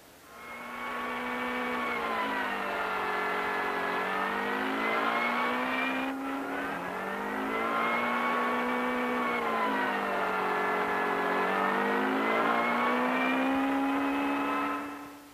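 A 1977 Suzuki GS-750 motorcycle engine running steadily on a dynamometer during performance testing, its tone rising and falling in long sweeps of revving, loud and continuous for the whole stretch.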